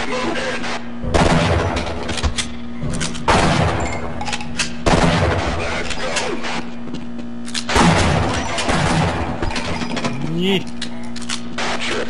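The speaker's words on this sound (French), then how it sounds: "on va se faire plaisir au fusil à pompe" Shotgun fire in the video game Half-Life Blue Shift rings out as loud, evenly spaced heavy blasts, each followed by a mechanical pump-action clack, with someone talking between the shots.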